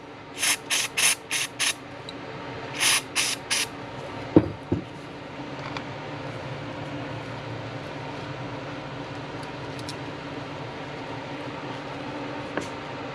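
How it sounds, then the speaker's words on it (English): Short hissing bursts of carb cleaner spray onto the throttle valve of a Jiffy ice auger: five quick puffs, a pause, then four more, followed by a faint clink and a low background hum. "I also sprayed down the throttle valve here with the little needle in it."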